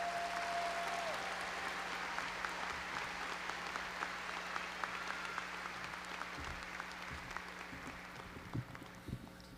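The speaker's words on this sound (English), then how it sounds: "Give them all a round of applause." A high school graduation crowd applauds the graduates, a broad, sustained clatter of clapping that fills the hall and slowly thins toward the end, with a few louder claps standing out late on.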